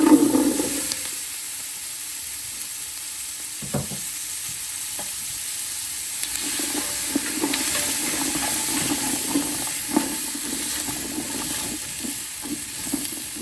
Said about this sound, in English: So now in I go with the onion.